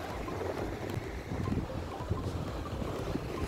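Strong wind buffets the microphone at a beach on a blustery day, a constant loud roar of gusts mixed with distant surf and no speech.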